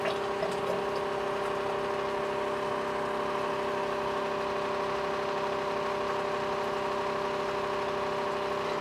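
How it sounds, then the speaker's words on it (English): An oil pump steadily pushes oil into a van engine during an oil change, a constant mechanical hum with a liquid whir that stays even and unbroken throughout, close by, with no talking. "So turn your oil pump on, and then you could start properly pumping oil."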